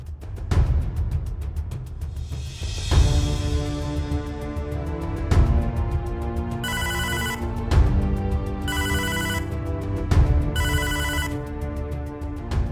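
A telephone ringtone rings out in a hospital while staff call a patient's relatives, with a repeating melodic ring in several loud bursts and short pauses between them and no talking.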